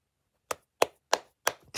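Five sharp, crisp hand claps ring out after a short silence, spaced evenly and close by, each a dry isolated smack with nothing else heard.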